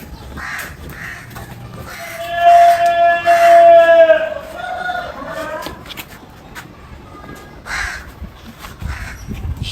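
Crows near rice and roti scraps put out for birds give loud, close, harsh caws in a cluster of calls, with other birds and household background noise around them.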